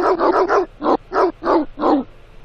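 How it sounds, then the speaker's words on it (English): A cartoon dog in a Dora the Explorer game barks in a quick, loud run of about eight barks, close and clear with no other sound. "Doggy, anjing."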